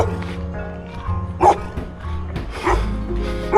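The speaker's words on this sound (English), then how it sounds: "this dog he's always coming at me." A dog in Tonga barks and yips close by in a few sharp bursts, loud over a low rumble of a moving vehicle.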